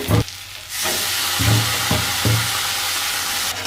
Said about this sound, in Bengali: আলুগুলো দেওয়ার পরে হালকা একটু কষিয়ে নিয়েছি